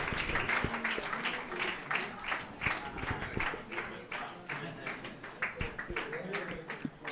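An audience claps loudly on request at a gathering, a dense run of hand claps continuing for several seconds, with voices speaking over it.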